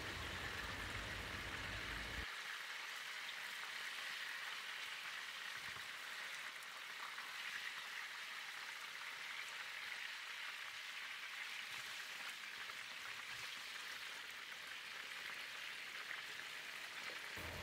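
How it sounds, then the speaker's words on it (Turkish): Pişi dough frying in hot oil in a home kitchen, a steady faint sizzle and crackle that runs unbroken throughout, with no talk and only a few soft knocks underneath. "Evet, bir yandan kızartıyorum"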